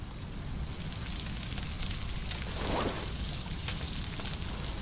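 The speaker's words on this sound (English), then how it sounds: "Yeah, this is just a rain event." Continuous rain in a video game hisses and patters steadily, with a faint swell of splashing water partway through and no talking.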